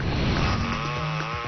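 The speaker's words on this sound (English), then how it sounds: "1926, the chainsaw." A 1920s chainsaw's steady buzzing engine drone, loud and close, with a slightly wavering pitch and a muffled, old-recording tone.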